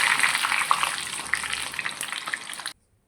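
Cassava vada frying in hot oil gives a steady, bubbly crackling sizzle close by, with light stirring, until it cuts off abruptly into silence.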